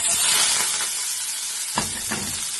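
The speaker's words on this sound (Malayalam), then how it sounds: "ഒരു പാൻ എടുത്ത് വെച്ചിട്ടുണ്ട്. നമുക്ക് റോൾ ഉണ്ടാക്കിയെടുക്കാൻ വേണ്ടിയിട്ടാണ്. അതിന് വേണ്ടിയിട്ട് ഇതേ സവാള മുറിച്ച് വെച്ചിട്ടുണ്ട്, മല്ലിയില, പച്ചമുളക്, വെളുത്തുള്ളി, കറിവേപ്പിൻ്റെ ഇല. ഇത് വാട്ടിയെടുക്കുക ആദ്യം" Sliced onion, green chilli, garlic, coriander and curry leaves sauté in a pan for beef rolls, giving a loud, steady sizzle with a couple of brief stirring scrapes near the end.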